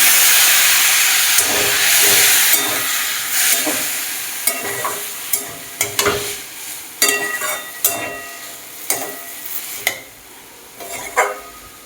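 Pointed gourd in a pan hisses loudly as a little water hits it, the steamy sizzle settling over several seconds while a spoon scrapes and taps against the pan in a steady series of sharp clicks.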